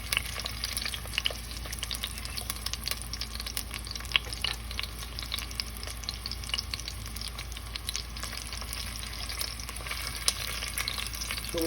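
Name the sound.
sausage frying in oil in a pan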